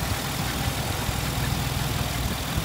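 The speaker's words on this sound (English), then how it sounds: "See how the engine sounds." A 2010 Jeep Wrangler Unlimited engine idles steadily nearby, a constant low rumble with an even, unbroken drone and no talk over it.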